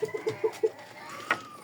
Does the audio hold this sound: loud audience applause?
no